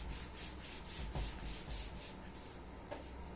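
Duster or hand rubbing chalk off a classroom board, steady continuous scrubbing in quick back-and-forth strokes, quiet and close with no talk.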